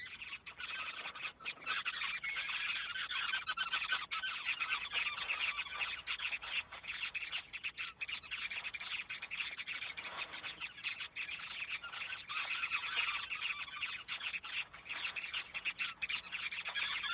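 Dense, continuous chatter of many small birds at a huge communal woven nest with dozens of chambers in the Kalahari, a busy wall of overlapping chirps and tweets with occasional squawks and wing flutters, steady throughout and with no talk.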